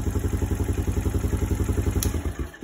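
A motorcycle engine fitted with an aftermarket exhaust idles roughly nearby, a loud uneven lumpy chug of rapid pulsing beats with clattering mechanical noise, running steadily for a few seconds.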